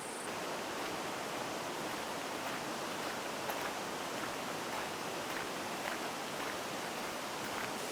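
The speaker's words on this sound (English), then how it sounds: "I hear water." Steady, unbroken rush of water from the Buttermilk waterfall, heard from a distance on a hiking trail as a continuous broadband hiss with no pauses or voices.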